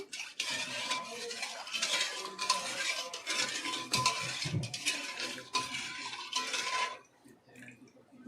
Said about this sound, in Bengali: এবার এর মধ্যে চামচ কর্নফ্লাওয়ার দিয়ে দিলাম জুসের সঙ্গে ভালোভাবে মিশিয়ে নেব